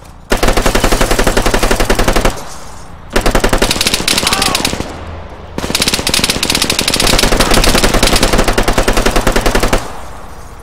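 Automatic gunfire in a video game, loud rapid bursts of machine-gun fire in three long strings separated by brief pauses, with voices faintly underneath.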